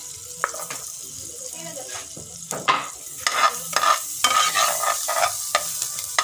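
Garlic fries in oil and margarine in a pan, a continuous sizzle broken by sharp clinks and scrapes of stirring, with a faint voice now and then.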